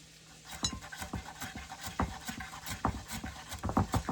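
Cauliflower rubbed over a kitchen grater gives a steady series of short rasping scrapes, about three per second, close and fairly quiet, with no talk.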